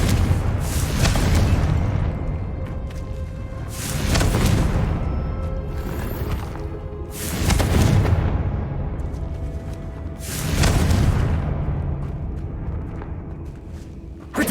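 Confringo blasting spells exploding in Hogwarts Legacy, four loud booming blasts spaced roughly three seconds apart, each swelling and decaying into a broad rumble, with faint magical tones in between.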